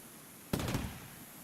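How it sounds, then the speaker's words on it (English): A turret exploding in the video game Rimworld: one sharp burst followed by a short crackling rumble that fades out over half a second, standing alone against quiet background. "What's about to explode? Oh, the turret over there."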